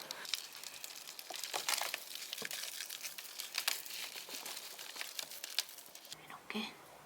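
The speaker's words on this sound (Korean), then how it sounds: "비닐로 한 번 더 덮어주고" A plastic sheet crinkles and rustles as it is pulled over a batch of leaf compost, making close, crackling bursts that run almost without pause.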